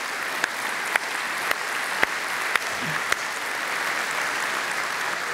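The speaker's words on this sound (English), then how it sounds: "Give all of our confirmation kids a round of applause." A church congregation applauds its confirmation kids in a steady wash of clapping, with a few sharper individual claps standing out at regular intervals over the continuous sound.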